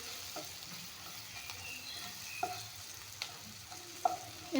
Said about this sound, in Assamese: অলপমান ভাজি ল'ম, যিহেতুকে ৰংগুড়া দি দিছোঁ।